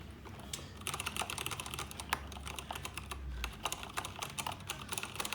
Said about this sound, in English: the clacky, loud sort of sound of the key switches